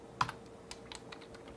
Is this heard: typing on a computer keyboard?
yes